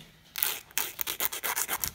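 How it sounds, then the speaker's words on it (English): A hand nail file rasps a puppy's toenail in a quick series of short scraping strokes, close and fairly soft, rhythmic after an initial pause, with no talking. "so I'm just gonna use the nail file."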